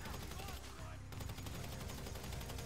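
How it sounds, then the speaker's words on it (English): A minigun in GTA V Online firing sustained dense bursts of rapid automatic fire, loud and continuous with a brief gap, while a voice talks over it. "Yeah, he does have a minigun."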